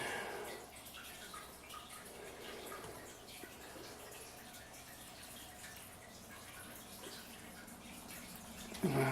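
Pan lube mixture with STP oil treatment poured from a turkey baster into a container, a soft, steady liquid trickle and drip running continuously at close range with no talk.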